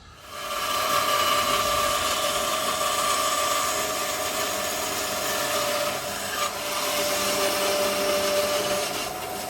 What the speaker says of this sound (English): cut that little tongue off with the bandsaw